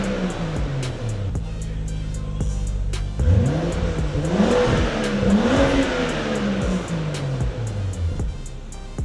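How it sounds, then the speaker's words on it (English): A BMW F22 M235i with a dual-tip exhaust revs close by, moving from a steady idle into repeated throttle blips that climb and fall in pitch, giving a deep, resonant engine note that dominates the scene. "here's the dual tip M235i"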